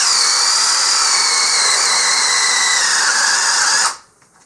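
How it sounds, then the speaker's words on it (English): Hart brushless drill with a 1 1/8 inch speed bit, in speed setting 2, bores through two stacked 2x4s with a loud, steady high whine lasting about four seconds before stopping abruptly. "I'm going to start with the brushless with the same 1 1/8 inch speed bit and try to go through 2 2x4s"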